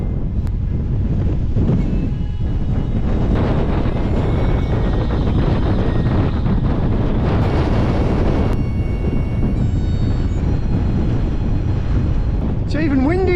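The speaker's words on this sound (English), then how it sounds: "It's even windier on the way down." Strong wind buffets the microphone during a descent of Beinn an Lochain in the Arrochar Alps, Scotland, a loud continuous roar and rumble with gusts throughout.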